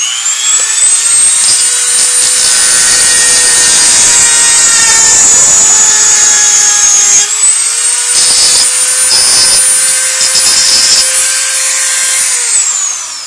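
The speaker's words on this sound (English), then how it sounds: "I got my little Dremel out, I got the carbide cutter bit on it there, and we're just going to zing these things off." A Dremel rotary tool fitted with a carbide cutter bit grinds off plastic tabs on a MaxStone 10 RC car, a loud continuous high-pitched whine that dips in pitch as the bit bites in, steady for about thirteen seconds.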